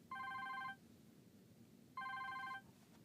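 A telephone rings twice, two identical electronic trilling bursts about a second apart, fairly faint against a quiet indoor room with no talking.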